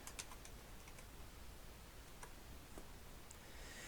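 Sparse keystrokes on a computer keyboard while a name is entered into a domain field in GIS software, a few light scattered clicks over steady background hiss with no talking.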